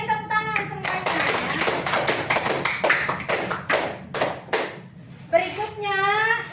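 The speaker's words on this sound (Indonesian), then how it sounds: "tepuk tangan semuanya ya" An elementary school class applauds a group in a steady burst of hand clapping that fills the room, with voices speaking before and after the applause.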